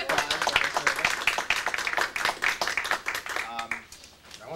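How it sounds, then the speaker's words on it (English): Scattered clapping from a small school committee meeting audience, moderately close with overlapping voices and chatter throughout, fading to lighter claps at the end. "I do want to give Cole a round of applause."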